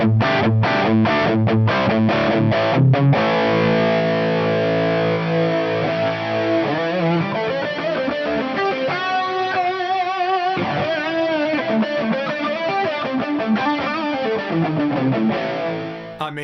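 An electric guitar plays through the amp simulator of an Ensoniq DP/4 rack effects unit with an impulse response loaded, giving a loud, distorted tone. Rapid chugged chords open the passage, which then moves into sustained bends and melodic lines.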